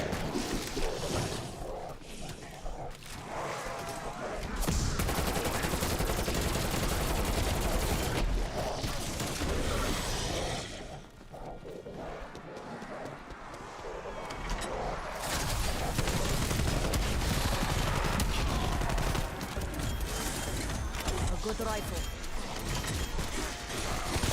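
Gunfire in a zombies game mode comes as rapid, dense bursts of shots over a long stretch, loud and continuous with a brief lull midway, while game noise churns beneath.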